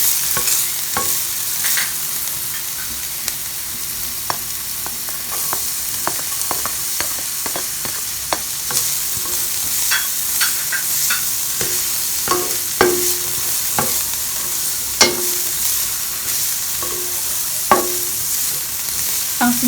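Garlic sautéing in a pan for a santol dish, a steady close sizzle broken by frequent sharp clinks of a utensil scraping and stirring, with no voices.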